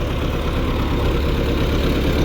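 MTZ 82.1 tractor engine being revved on a farm, a steady rough mid-low diesel drone with broadband noise, fairly close and constant, no talking.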